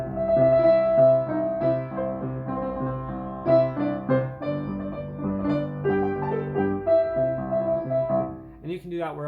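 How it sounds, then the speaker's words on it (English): Piano playing a rocking pattern that alternates back and forth between octave notes over chords, steady and moderately loud, ending abruptly. "you can do octaves and wiggle it like this to create a kind of cool back and forth sound"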